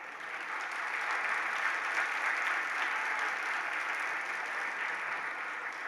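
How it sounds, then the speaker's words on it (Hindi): A temple audience applauds during a religious discourse, with steady sustained clapping from many hands, heard at a moderate distance and without a break for the whole stretch. "जितनों की तालियां बज रही है, हम उसको अनुमोदना समझेंगे और संकल्प समझेंगे।"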